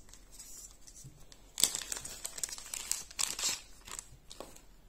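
Playing cards for the My City board game are shuffled close by, a crisp burst of riffling and rustling paper that starts suddenly and continues in short, uneven flurries.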